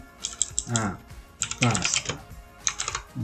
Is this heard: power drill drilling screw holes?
no